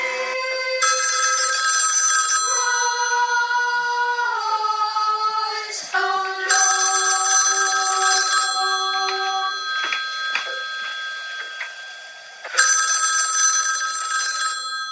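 Telephone ringing in bursts of bright, trilling electronic tones with several distinct pitched chimes, loud and steady for about fifteen seconds with short pauses between rings, no voices.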